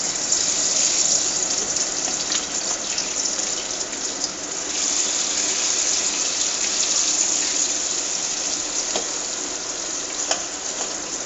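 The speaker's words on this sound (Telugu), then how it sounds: "ఫ్రైకి ఫ్రెండ్స్ సరిపడా ఆయిల్ పోసేసుకున్నాము. ముక్కలు వేపడానికి వేస్తున్నాం అన్నమాట." Fish pieces sizzle in hot oil for a fish fry, a close, dense and steady crackle and hiss that runs unbroken throughout with no talk.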